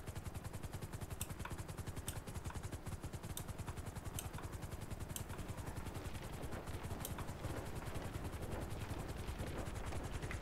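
A helicopter hovers in the video game GTA V, with rapid rhythmic rotor chopping and a steady whine, continuous and fairly quiet throughout.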